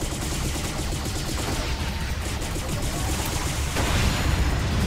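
Rapid gunfire and explosions in the action game P.N. 03, a dense unbroken barrage of shots and blasts at a steady level throughout, with no talking.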